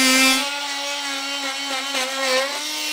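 An oscillating multi-tool trims plastic air box fins on a 2023 vehicle during a base plate installation, giving a steady, high-pitched buzzing whine with a strong constant tone that wavers slightly as it cuts.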